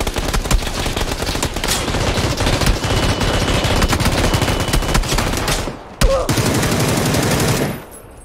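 M249 light machine gun fire in PUBG on Erangel, fired from a vehicle during a drive-by: long, loud sustained automatic bursts with short gaps, ending abruptly as engine rumble fades out.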